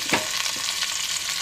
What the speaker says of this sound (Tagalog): Then, we add the chopped onions.